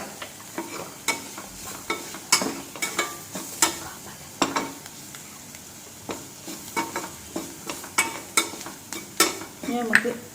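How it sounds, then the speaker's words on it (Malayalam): Spoon stirring dosa batter mixed with chilli and pepper powder in a pan, a steady run of sharp scraping and tapping strokes, soft and close, with a faint sizzle beneath. "നന്നായിട്ടൊന്ന് യോജിപ്പിക്കാം എല്ലാം കൂടി."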